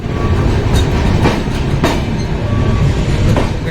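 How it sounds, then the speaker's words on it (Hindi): The Kota Katra Express rolls into a platform at Udhampur station, a loud steady rumble of railcars and wheels with rhythmic clacks and faint squeal close by. "यहाँ पर प्लेटफॉर्म 3 है और इधर ट्रेन अराइव हुई है 2 पर"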